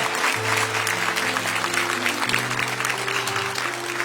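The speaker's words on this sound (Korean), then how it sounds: "하나님께 영광의 박수 올리도록 하겠습니다" Congregation at a church gathering gives a round of applause to God, dense continuous clapping with sustained organ or keyboard tones underneath.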